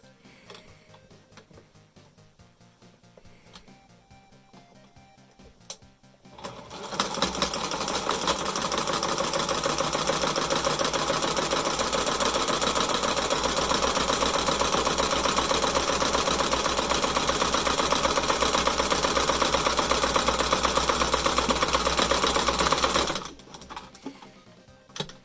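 A home sewing machine stitches a DIY fabric mask in one continuous loud run of rapid, even mechanical whirring lasting many seconds, bracketed by quiet handling noises before and after.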